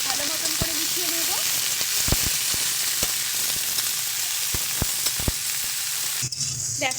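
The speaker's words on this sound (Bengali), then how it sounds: "সমস্ত সবজিগুলোকে ভালো মতন করে মিশিয়ে নেব" Mixed vegetables with prawns and eggplant frying in a pan, a steady close sizzle punctuated by sharp scraping and tapping stirs, with a brief voice early on.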